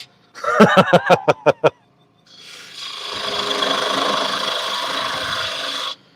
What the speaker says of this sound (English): I'm going to go back to the bowl gouge, get this down thinner